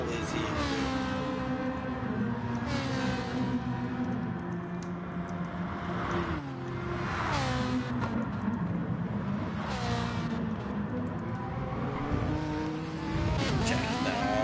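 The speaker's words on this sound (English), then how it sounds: "Jack is really throwing that Ferrari around the corners as we always see him do" A Ferrari GT4 race car in a sim racing game at Red Bull Ring, engine revving up and down through corners with steady gear changes and brief tire noise, continuous and close, with a commentator talking over it.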